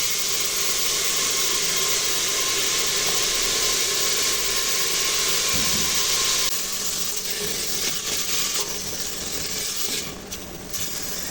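Onion added to a hot pan after bay leaves, a loud continuous sizzle and hiss up close that settles a little after a few seconds, with light clattering and no talking.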